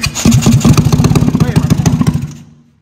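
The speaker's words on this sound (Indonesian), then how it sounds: "Coba starter." A Yamaha Aerox scooter with a bored-up, stroked engine of nearly 300cc cranks on its electric starter: a close, loud, rapid rhythmic chugging for about two seconds that then stops without catching.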